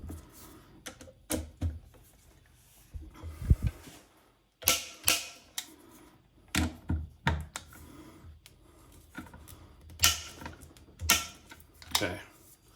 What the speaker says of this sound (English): So now I'm going to torque them in place.